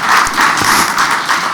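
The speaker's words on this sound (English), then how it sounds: "We can give him another round of applause." A seminar audience claps in a dense, steady burst for a keynote speaker, close and fairly loud, with almost no voices over it.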